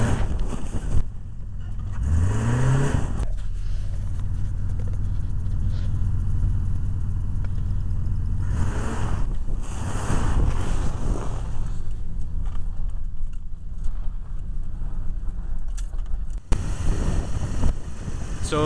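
Jeep Grand Wagoneer being driven in four-wheel drive to test its viscous coupler, a steady loud engine and road rumble with wind noise heard from inside the vehicle, continuous throughout.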